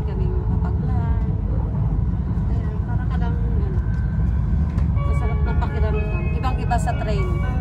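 Interior ride on a Japanese Joetsu Shinkansen bullet train, with a steady loud rumble and rolling hum throughout, tonal whines and chimes rising above it, and people talking over the train noise.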